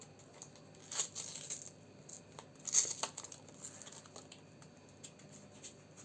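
Crinkly rustling and tearing of a paper packet, in a few short bursts around the first and third seconds, close by, with quiet background.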